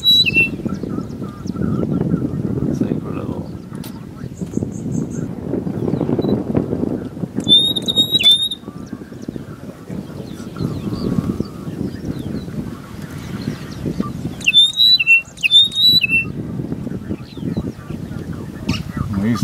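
Birds give sharp high chirps and squawks in short bursts around a feeder in Kenya, partly under steady wind and low rumbling noise, with people talking nearby.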